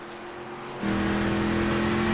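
Race truck engine in a racing video game, a steady tonal drone that jumps sharply louder and higher as the revs climb after a short shift, loud and alone.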